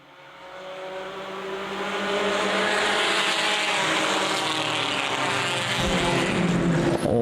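At the start of a compact touring car race at Winchester Speedway, a pack of engines swells from moderate to loud as the cars pick up throttle together, forming a dense, building roar.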